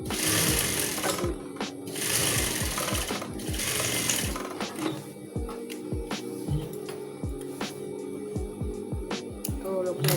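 A sewing machine stitches a folded hem in steady rapid bursts of needle clatter, loud and close, pausing briefly between runs, with some talk underneath.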